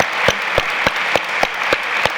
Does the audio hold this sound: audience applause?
yes